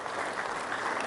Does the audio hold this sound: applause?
yes